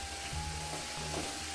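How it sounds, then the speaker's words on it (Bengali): Potatoes frying in a pan at a festival cooking area in Bankura, with a steady sizzle and faint hum underneath, fairly close. "আর এখানে আলু ভাজা হচ্ছে।"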